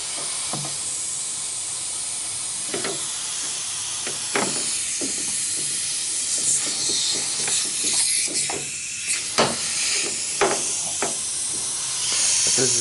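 Compressed air from a compressor hisses steadily through a test rig, a loud continuous rushing with intermittent sharper clicks and bursts over it.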